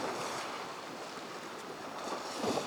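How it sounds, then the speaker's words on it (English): Ocean waves roll in at night beside a beachfront condo building in South Florida, a steady broad wash of surf mixed with wind noise on the microphone, continuous and fairly loud with no voices. "I got the ocean right out here."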